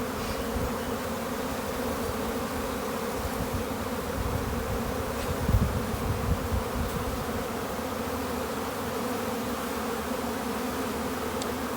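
Honeybees hum in a dense, steady drone throughout a spring beehive inspection, close and constant, with a brief louder buzz midway and no talking.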